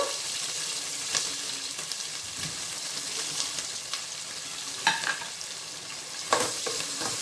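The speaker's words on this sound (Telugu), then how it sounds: "వేసుకొని కొద్దిసేపు ఫ్రై చేసుకున్నాము" Green chillies and onions fry in a pan for spicy egg biryani, giving a steady, close sizzle with occasional louder stirring clatters and scrapes.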